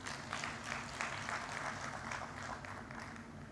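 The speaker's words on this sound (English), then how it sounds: "Let's clap for ourselves." An audience at an annual corporate summit in Uganda breaks into applause, a steady, dense clapping from a seated crowd that holds for several seconds in a large hall.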